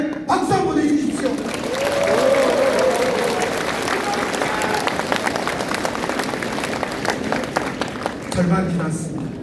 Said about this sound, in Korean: 국회의원들께 박수 한번 보내주십시오